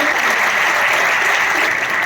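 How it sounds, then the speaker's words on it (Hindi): Audience applause at a Vestige business event, a dense, steady wash of clapping that stays loud and continuous through the whole stretch with no talk over it. "उन सभी को दिल से तालियां बजा के उनका स्वागत करें।"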